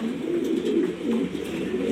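Young pigeons in a coop coo softly and continuously, a low, layered murmur of overlapping calls close by.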